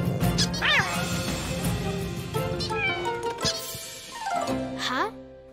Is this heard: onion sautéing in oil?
no